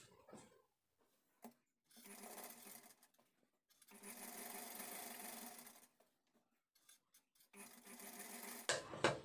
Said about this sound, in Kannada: ಈಗ ನಾವು ಉಲ್ಟಾ ಕಡೆಗೆ ಈ ಥರ ಫೋಲ್ಡ್ ಮಾಡಿಕೊಂಡು ಎಡ್ಜಲ್ಲಿ ಒಂದು ಸ್ಟಿಚ್ಚನ್ನು ಹಾಕ್ಕೊಳ್ಬೇಕು.